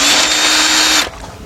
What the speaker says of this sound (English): I'm going to use my cordless drill again with my 14mm shallow socket.